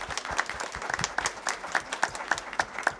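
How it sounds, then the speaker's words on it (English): A small group of parents and attendees at a school board meeting claps for children who have just presented. The claps are sparse and distinct, close by, in an uneven rhythm. "Let's give them another round of applause."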